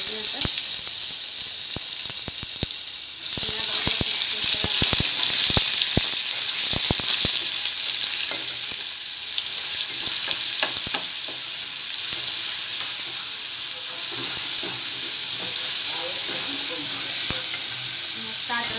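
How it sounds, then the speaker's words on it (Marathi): Ginger-garlic paste hits hot oil with cloves, black pepper and cinnamon in a pan, sending up a loud, sustained hissing sizzle. Rapid spatula scrapes and clicks run through the first half, and the frying stays close and dominant throughout. "अद्रक लसणाची पेस्ट घालून"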